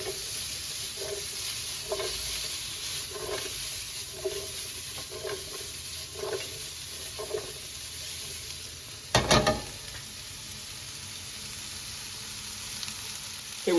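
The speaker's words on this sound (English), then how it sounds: "we've been sauteing here for about another 2 minutes with our peppers in, with our onions" Italian sausage, chicken, onions and peppers sizzle steadily as they sauté in a big frying pan, with soft periodic stirring scrapes and one sharper clatter midway from a pan flip, no voices.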